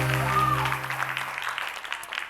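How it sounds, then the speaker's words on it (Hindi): A studio audience at a Pakistani TV talk show claps in a full burst that slowly thins out over two seconds, with a voice briefly heard over the start. "बहुत तालियां जी"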